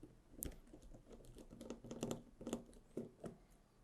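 Two small screws being backed out of the hop-up unit of an SSG10 airsoft sniper rifle, a run of faint, close ticking and scraping clicks from a screwdriver working metal and plastic, with no voices.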